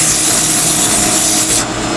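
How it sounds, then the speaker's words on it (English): Wood spinning on a lathe is sanded with 180 grit sandpaper, giving a loud, steady, continuous broadband rub that holds for about two seconds before easing slightly at the end. "Next I'm going to switch over to some sandpaper. I am starting with a"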